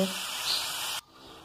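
Water splashed into a pan of frying tomatoes flares into a loud, sharp hiss that holds for about a second and then stops abruptly, leaving only faint background.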